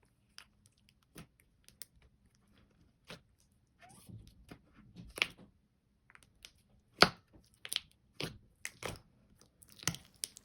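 PeachyBBies slime being kneaded together with clay, giving a quiet series of soft sticky squishes and crackling pops, sparse at first and then more frequent and louder near the end, with no talking.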